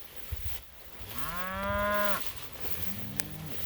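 Cattle low in a pasture of Kentucky 31 fescue where a young calf grazes: one long, drawn-out moo near the microphone, then a shorter, softer moo after a pause.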